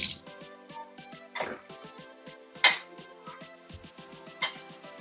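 A starch spoon rinsed and handled at a kitchen sink while cooking chicken tenders with gravy: sharp metallic clinks and clatters in four distinct bursts over a steady background hum, fairly close, with no talking.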